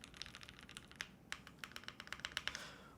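A TG67 V2 custom keyboard, a quiet office-friendly build, typed on at a quick, steady pace: soft, light keystroke clicks in a continuous patter, close and alone with no voices.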